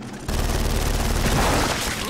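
Rapid sustained machine gun fire rattles loudly in Gears of War 4, a dense continuous burst of automatic shots starting abruptly and running to the end.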